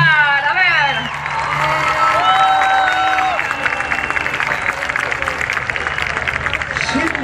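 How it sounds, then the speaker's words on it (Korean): Audience at a Korea Day cultural event cheering and whooping, then settling into loud, sustained applause, with a few voices rising over the crowd at the start. "Necesitamos un fuerte aplauso para poder empezar."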